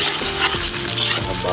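Onion frying in a pan gives a steady, close sizzle with faint stirring clicks through the whole short stretch, and no voices.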